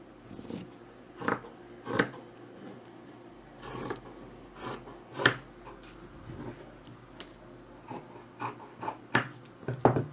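Fabric being cut with scissors while tracing a straight skirt pattern for a sewing class, a series of close, crisp snips and rasping blade strokes spaced irregularly, growing more frequent toward the end, with no talk.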